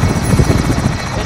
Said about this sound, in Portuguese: Helicóptero hostil carregando dinheiro.